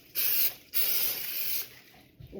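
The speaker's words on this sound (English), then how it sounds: "I am going to spray it a little bit." Cooking spray hisses onto parchment paper in two close bursts, the first short and the second longer, followed by quiet.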